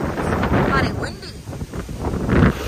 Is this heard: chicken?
no